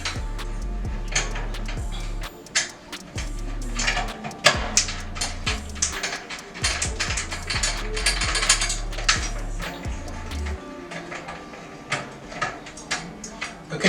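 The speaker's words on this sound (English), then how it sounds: "the reason why we actually loosen those tension rods as we are trying to remove our head" Snare drum tension rods being loosened with a drum key in a cross pattern, a busy run of close mechanical ratcheting clicks and creaks over low thumps of the drum shell, with no talking.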